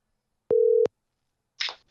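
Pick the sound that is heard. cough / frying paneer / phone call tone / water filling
phone call tone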